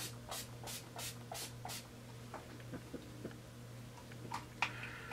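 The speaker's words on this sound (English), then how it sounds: "shake it and then I spray." Urban Decay makeup setting spray is misted in four quick hissing bursts close by, followed by faint ticks and small handling sounds, then a brief final spray-like hiss.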